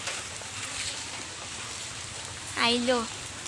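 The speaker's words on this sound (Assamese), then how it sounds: "এতিয়া নাই অলপ বৰষুণ দিছে" Light rain patters steadily throughout, a soft even hiss, with a brief bird call or voice rising near the end.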